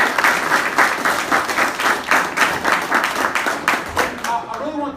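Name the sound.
audience applause for students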